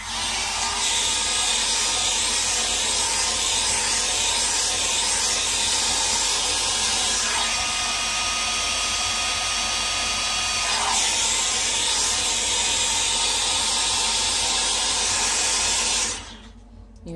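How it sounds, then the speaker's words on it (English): A hair dryer blows steadily at close range to dry alcohol ink, a loud continuous whooshing hiss with slight shifts in pitch as it moves, cutting off abruptly near the end. "Now I'm gonna blow dry."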